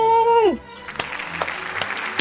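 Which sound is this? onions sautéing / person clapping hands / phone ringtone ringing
person clapping hands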